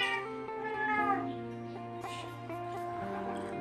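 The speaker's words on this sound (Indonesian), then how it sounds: "Ada kucing." A cat meows several times, a drawn-out plaintive cry followed by shorter calls, close by over a faint steady background hum.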